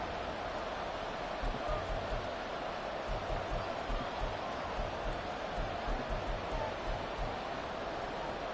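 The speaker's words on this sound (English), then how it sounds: "This crowd doing all they can." A football stadium crowd at a Bears versus Lions game roars in a dense, unbroken wash of cheering that holds steady throughout at moderate loudness.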